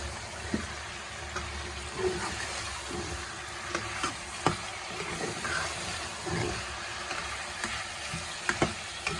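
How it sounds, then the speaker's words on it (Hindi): Meat browns in oil with garlic, ginger and tomatoes, giving a soft, steady frying hiss broken by scattered small pops and spatula scrapes throughout. "गोश्त को भून रहे हैं।"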